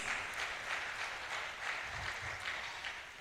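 Audience applause at an International Youth Day 2024 event, a steady broadband clapping wash lasting the whole stretch at moderate level, with no voices over it.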